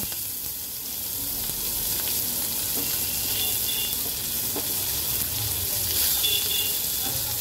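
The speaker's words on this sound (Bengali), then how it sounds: "পেঁয়াজটাকে আমি একটু হালকা ভেজে নেব।" Chopped onion fries lightly with whole cumin and dried bay leaf in oil, giving a steady, soft, close sizzle with occasional faint stirring clicks and no clear talking.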